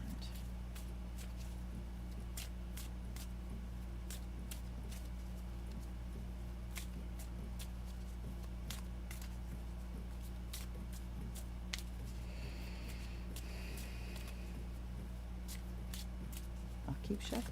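Quiet, steady flutter of tarot cards being shuffled repeatedly, with soft riffling bursts over a low background hum.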